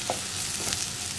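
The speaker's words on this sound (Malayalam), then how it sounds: "അപ്പോൾ ഈ സവോളയുടെ കളറൊന്ന് മാറി വരുന്നത് വരെ ഇളക്കിക്കൊണ്ടിരിക്കുക." Sliced onions fry in coconut oil while being stirred in a pan, giving a continuous bright sizzle with a couple of soft spoon scrapes in a short close-up burst.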